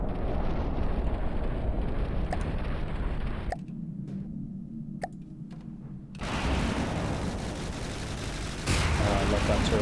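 Heavy turret fire in the naval combat game From The Depths booms in dense, continuous volleys, drops to a muffled rumble with sharp isolated cracks, then surges back to full roaring barrage.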